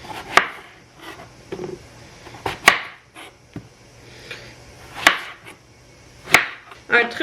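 A knife chops through apples on a cutting board at home, with sharp, separate strikes coming at uneven intervals in a quiet kitchen.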